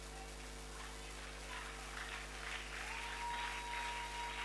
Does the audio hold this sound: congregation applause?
yes